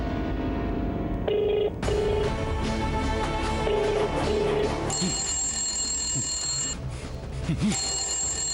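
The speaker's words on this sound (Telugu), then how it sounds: "ఫోన్ రింగ్ అవుతుంది, ఫోన్ చూడు" A telephone rings in a home, with repeated bursts of an electronic ring in a steady pattern, loud and close, followed by a higher sustained ringing tone near the end; no talking over it.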